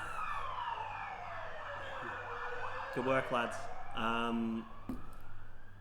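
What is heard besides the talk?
ambulance siren passing at a roundabout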